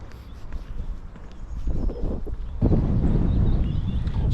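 Gusty wind buffets the microphone with low rumbling bursts that grow stronger partway through, outdoors in the town of Yarm, and no one speaks.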